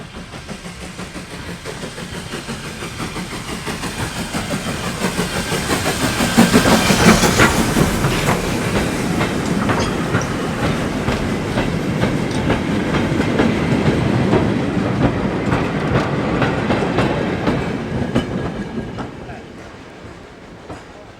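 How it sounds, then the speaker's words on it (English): A train running through a heritage railway station platform without stopping, its wheels clattering steadily over rail joints at close range for the whole stretch, loudest near the middle as it passes. "Stand well away from the edge of platform 2, this train is not stopping."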